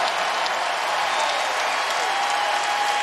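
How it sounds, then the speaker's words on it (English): Basketball arena crowd at Rupp during a Kentucky versus Auburn game, loud sustained applause and cheering from a large audience, dense and continuous throughout. "a raucous, appreciative crowd here at Rupp lets them hear it"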